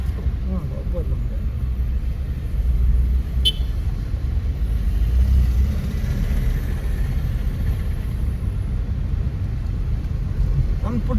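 Maruti Suzuki S-Presso cruising on the Mangalore–Bangalore highway, a steady low engine and road rumble with tire noise throughout, loud and continuous, with no voices.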